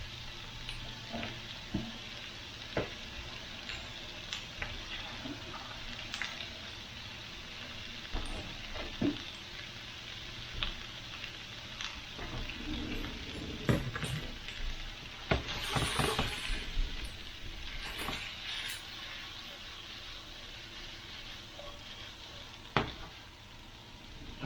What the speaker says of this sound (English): Throw my peppers in there. Stir this around. Let that cook up really good.